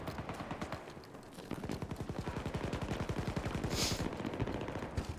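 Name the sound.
drum magazine shotgun firing in Battlefield 2042 video game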